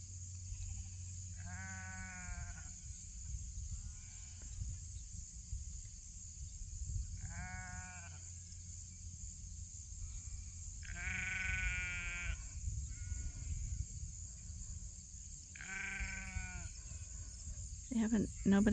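Sheep bleat repeatedly as rams are released out to far pastures on a farm, several loud calls spaced a few seconds apart over a constant high insect drone and low rumbling background.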